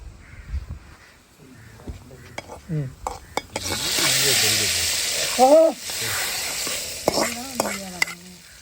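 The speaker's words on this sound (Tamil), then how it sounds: "கருவேப்பிலை போட்டு வெங்காயத்தை கொஞ்சம் நல்லா கருவை விட்டே தாளிங்க" Onions and curry leaves fry in oil for a fish curry, a hissing sizzle rising midway after sparse clinks, with crows cawing nearby and a voice speaking over it.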